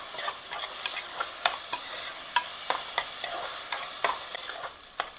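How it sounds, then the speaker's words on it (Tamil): Soaked rice fries in ghee for a nut payasam, with a steady high sizzle and regular scraping strokes as a spoon stirs it, close and continuous, with no talking. "நல்லா தாளிக்கணும் இந்த நெய்யிலேயே அரிசியை."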